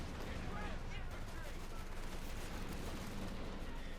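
Dense, continuous machine-gun fire from a Company of Heroes 2 battle, rattling steadily at close range throughout and mixed with other battlefield gunfire, with a voice speaking over it.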